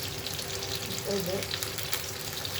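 Chicken curry sizzles quietly in a pan while it is stirred, a soft, continuous frying hiss with faint scraping throughout.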